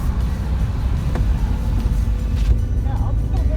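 Loud, steady low-end rumble and wind buffeting from a car driving with its windows open through downtown Ogden, Utah, with faint voices and a brief squeak near the end.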